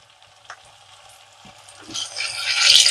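Fish pieces shallow-frying in a little oil in a pan while being stirred and moved around, a soft sizzle with light scraping knocks that swells into a louder, brighter frying hiss toward the end, close with no talk.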